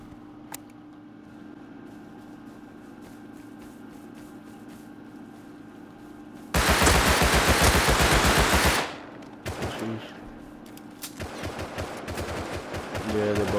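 Automatic gunfire in the console edition of the survival game Rust, a loud sustained burst of rapid shots for about two seconds after quiet ambience, followed by shorter bursts and scattered shots.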